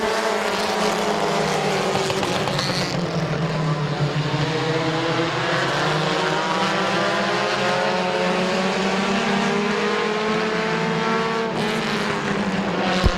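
Compact race cars battle for the lead at Midvale Speedway, several engines roaring together in a loud, continuous pack with rising and falling pitch as they sweep past, no talk over the din.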